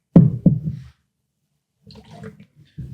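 Water sloshes and splashes during a quick rinse: two close, fairly loud splashes, a pause of quiet, then softer, scattered sloshing and a final splash.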